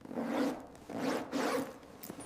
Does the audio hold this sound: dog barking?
no